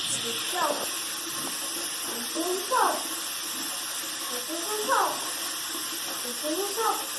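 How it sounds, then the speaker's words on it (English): Water runs steadily from a tap into a sink during handwashing, a constant close hiss with brief splashes, and a voice speaks intermittently over it. "With minimal verbal and occasional physical prompting, he is going to wash his hands."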